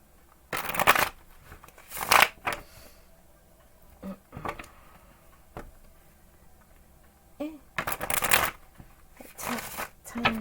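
Tarot cards are shuffled in several short bursts of crisp riffling and slapping, close and fairly quiet, separated by pauses with soft handling noises.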